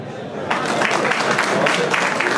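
Guests clap for prize winners at a racing pigeon show awards ceremony, applause swelling suddenly after a quiet start and continuing as a steady, fairly loud round of clapping.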